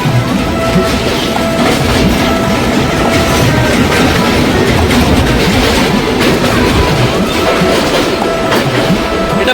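Jaleswar MEMU local train running between Jaleswar and Puri, heard as a loud, continuous rumble with rhythmic clickety-clack of wheels over rail joints, close and unbroken throughout.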